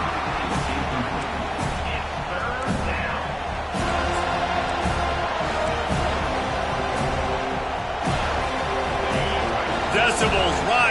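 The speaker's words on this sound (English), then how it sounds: "Decibels rising as the crowd gets behind this defense on 3rd down" Stadium crowd at a football game swelling into a loud, continuous roar on third down, with a commentator talking over it throughout.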